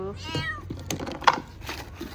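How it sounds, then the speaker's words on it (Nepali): A hungry pet cat meows close by, a drawn-out plaintive call followed by shorter cries, with a person talking softly over it. "हाम्रो बिरालोलाई चाहिँ भोक लागेको रहेछ, खाना दिनु पर्यो।"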